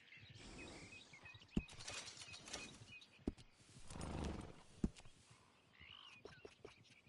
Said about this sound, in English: Little fine grooming always sets off a horse.